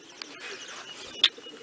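Pigeons in a loft give soft, low cooing over a hushed background murmur, with one short, brighter chirp standing out near the end.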